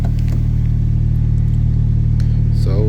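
Warmed-up car engine idling on a chilly morning, a steady low rumble that is close and constant throughout, with a brief faint noise near the end.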